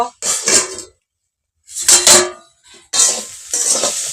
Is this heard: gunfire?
no